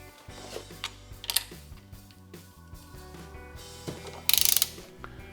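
A ratchet clicks briefly while tightening the clutch bolts on a Vespa SS180 SuperSport engine rebuild, with a quick run of sharp clicks near the end over a low mechanical background.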